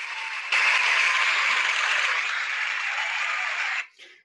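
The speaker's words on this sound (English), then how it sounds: "I have some virtual applause here to play for Mihai." Recorded applause played back to honour an award recipient at a networking keynote, a steady wash of clapping that starts abruptly, holds for about three seconds and cuts off, with a brief faint tail.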